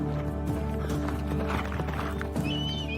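A sound effect of horses' hooves clip-clopping in a steady rhythm, joined by a brief whinny, set over a continuous tonal background bed with no talking.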